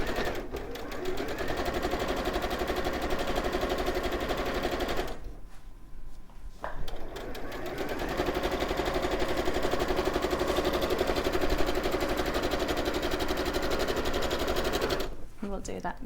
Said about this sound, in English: I'm just going to use a straight stitch, increase that up to the longest stitch, and just sew that binding into position.